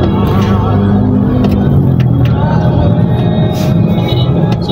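A car idles and creeps through a U-turn at a parking entrance ahead of a typhoon, its engine a steady low rumble close by and continuous, with people talking over it.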